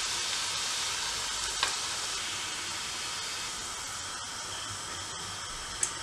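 Chicken pieces fry in hot oil for devilled chicken, giving off a continuous, even sizzling hiss at moderate level, broken only by a couple of faint pops, with no voices.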